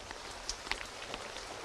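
Rain falls steadily at a Durga Puja festival pandal site in Ranchi, a faint continuous hiss dotted with a few sharper drops hitting surfaces nearby, with no voices.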